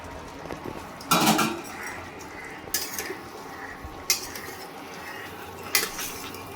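A metal lid lifts off a cooking pot of jackfruit and potato curry, giving a loud, close clatter followed by three lighter clinks of metal on metal spaced a second or so apart.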